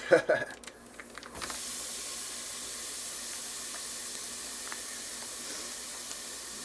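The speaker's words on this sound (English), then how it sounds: "Hear that meat already starting to sizzle." Meat browning in a pan gives a steady, broad sizzle that hisses continuously after a few opening clatters, close by and fairly even in loudness.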